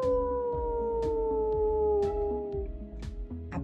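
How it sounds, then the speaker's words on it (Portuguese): A werewolf's long howl at the moon, sustained and wavering with a slowly falling pitch, loud and close, layered over a steady rhythmic backing beat. "pela primeira vez uivou para a lua"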